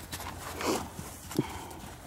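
A horse walking in a riding arena, with a couple of soft hoof clip-clops spaced apart over faint background noise.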